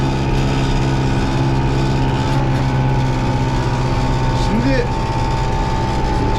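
A farm tractor engine runs steadily while planting oats and chickpeas, a loud continuous drone with a low rumble that stays even throughout, with faint voices and background noise mixed in.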